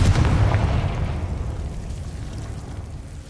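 A Confringo spell in Hogwarts Legacy bursts with a loud, deep boom right at the start, then a rumbling tail slowly fades over the next few seconds, with no talking.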